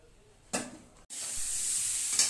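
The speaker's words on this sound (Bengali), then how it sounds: "এবার এগুলোকে ভেজে নেব" Small cut pieces of paneer go into hot white oil in a wok. A brief clatter comes first, then a loud, sustained hissing sizzle that stays close and steady to the end.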